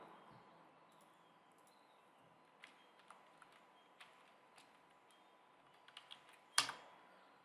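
Faint, scattered keystrokes on a computer keyboard as a word is typed into a WordPress booking form, a handful of light clicks ending in one sharper tap in an otherwise quiet room.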